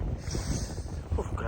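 Steady wind rumbles and buffets against the microphone outdoors on a sandbar fishing spot in Qatar, with a low roar and faint rushing near open water.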